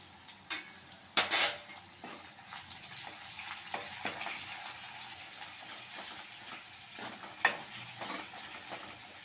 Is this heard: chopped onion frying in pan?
yes